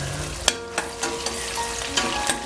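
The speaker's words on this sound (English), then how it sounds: "I'm gonna add in my onion, and we're gonna let this onion brown up a little bit" Onion frying in hot cooking oil for a lentil curry, a steady close sizzle with a few sharp stirring clacks and scrapes in the pan, no voices.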